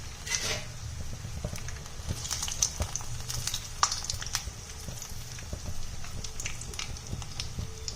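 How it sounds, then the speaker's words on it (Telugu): Taro leaf parcels fry in oil on low heat in a pan, giving a steady crackling sizzle with scattered sharp pops throughout, close and moderately loud, with no one talking. "ఒక సైడ్ ఫ్రై అయిన తర్వాత ఇంకో సైడ్కి తిప్పుకోవాలి"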